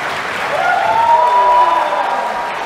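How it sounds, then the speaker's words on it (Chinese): Audience applause welcoming composer Leong Ki Ye at a stage event: a short, dense burst of clapping that swells and holds, with a thin tonal sound riding over it. "让我们以最热烈的掌声欢迎作曲家梁洁莹"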